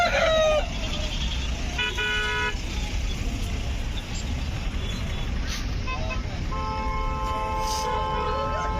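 At Gudur's busy chicken market, roosters crow and hens cluck amid a constant crowd din, while vehicle horns toot in short bursts nearby.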